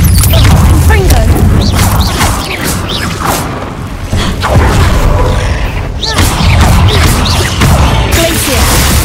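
Explosive blasts from a Confringo fire spell boom and crash through a cave battle in Hogwarts Legacy, several loud impacts with whooshes and thuds over a dense, continuous game soundscape.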